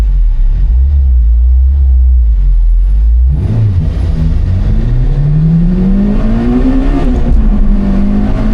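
A Honda Civic Type R EP3 with its VTEC engine drones loudly from inside the car, then climbs through the revs as it accelerates hard, rising in pitch, easing briefly and pulling again, with no talking.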